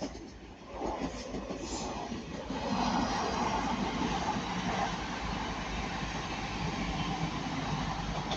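A TransPennine Class 185 diesel train passing at Ardwick, a broad, steady rumble and roar that swells after the first couple of seconds and holds loud and close throughout.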